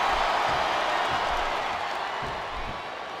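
A wrestling arena crowd gives off a dense, continuous roar of noise that fades slightly over a few seconds, with no single voice standing out.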